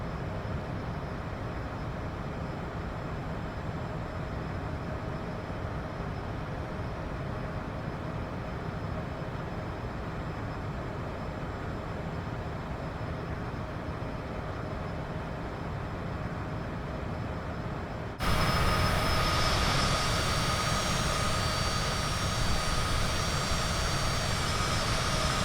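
A Cessna Citation CJ4 business jet's engines roar steadily in Microsoft Flight Simulator 2024 during a climbing takeoff, a continuous broadband whine and rumble that jumps abruptly louder and brighter near the end.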